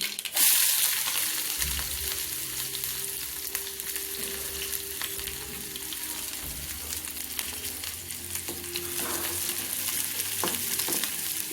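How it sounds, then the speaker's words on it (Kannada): Mustard seeds and cumin sizzle and crackle steadily in hot oil as a tempering for an okra and potato curry, a loud continuous frying hiss with scattered pops throughout. "ಸಾಸಿವೆ ಜೀರಿಗೆ ಹಾಕತ್ತೀನಿ, ಎಣ್ಣೆ ಕಾಯಕ್ಕಿತ್ತೀನಿ."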